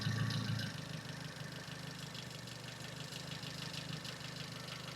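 A car engine idles with a low, steady rumble that is louder for the first moment, then drops to a quieter, lower idle as a plug on the transmission is connected.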